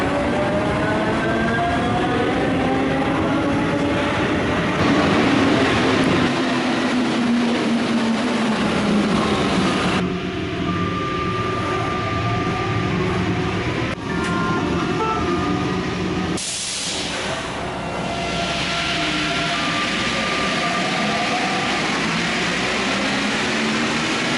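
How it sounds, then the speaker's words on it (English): A TGV high-speed train at Gare de l'Est station in Paris, heard as a steady, loud rumble with hissing and tonal whines running throughout, with no voices. "today we're actually taking the TGV to Strasbourg"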